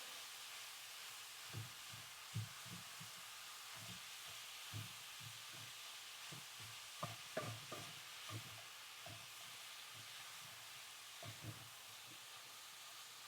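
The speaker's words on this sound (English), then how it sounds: "You can hear that sizzle." Sloppy joe meat sizzling in a pan on a stovetop, a quiet steady hiss broken by soft irregular stirring scrapes.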